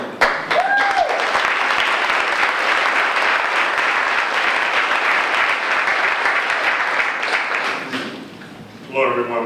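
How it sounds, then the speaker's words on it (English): An audience applauds the police department's first African American deputy chief at a summer crime plan event, with steady clapping filling about eight seconds before it fades and a voice comes in. "I would like to give him a round of applause"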